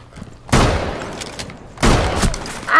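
Two heavy shotgun blasts go off in the tactical shooter game Rainbow Six Siege, each a loud, close boom followed by a trailing rumble, about a second and a half apart.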